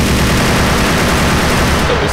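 Dense gunfire rattles in the video game GTA IV, a loud, unbroken burst of overlapping shots filling the whole moment with no speech.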